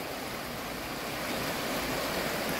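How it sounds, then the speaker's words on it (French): A small stream gives a steady, broadband rush of flowing water, continuous and fairly close, with no talking. "Avec un petit ruisseau."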